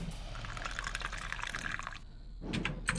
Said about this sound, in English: Pour the bleach.